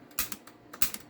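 Solenoid coil on the pirate ship of a Stern Pirates of the Caribbean pinball machine clicking during repair: two quick pairs of sharp mechanical clicks, close and fairly quiet, with no talk.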